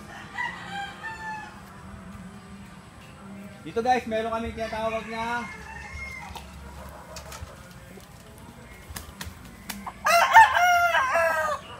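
Game farm roosters crow in several long, strained calls, some near and some farther off, with someone talking between and over them.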